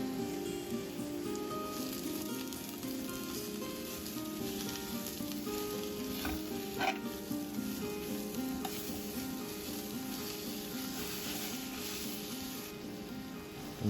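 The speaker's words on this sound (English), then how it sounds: "After adding the garlic," Garlic is stir-fried in oil in a pan. A continuous close sizzle runs throughout, with a few brief scraping stir sounds in the middle.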